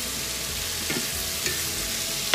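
Vegetables frying in a pan as they brown, a steady dense sizzle with a few brief clinks of stirring near the end, no voices over it.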